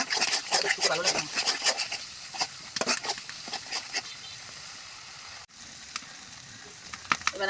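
Spice masala for a chicken roast sautés in a pan with a constant close sizzle and rough scraping stir strokes, and a person talks over it throughout.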